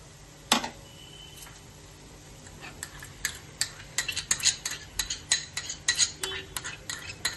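A spoon stirs chicken with fried onion paste in a pan, first one loud clank, then a quickening run of close metallic scrapes and taps against the pan's side.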